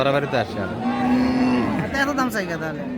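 At a busy cattle market a young bull calf moos in one long, loud, nearby call, surrounded by people talking and bargaining.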